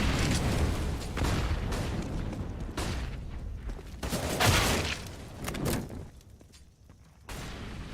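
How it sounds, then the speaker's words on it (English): Gunfire during a competitive Counter-Strike: Global Offensive Grand Final match, with dense bursts of shots and booming impacts in the game mix, the loudness rising and falling over several rapid exchanges. "Shots from Nafny will get Boomich"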